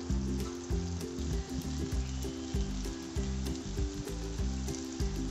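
Hilsa fish wrapped in banana leaf sizzles steadily in hot oil, a loud continuous frying crackle with bubbling pops, close by and without talk.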